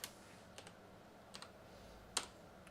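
A handful of quiet, sparse keystrokes as an ad code is typed on a computer keyboard, each click short and crisp with pauses between, one slightly louder tap near the end.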